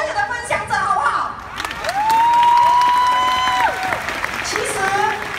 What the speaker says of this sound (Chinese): 我们把最热烈的掌声给到刚才的我们所有的分享者，好不好？